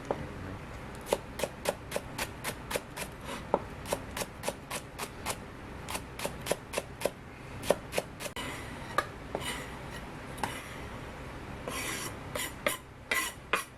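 A knife chops green onion on a cutting board in steady, rapid strokes, crisp taps repeating in quick runs with a few short pauses, close and clear.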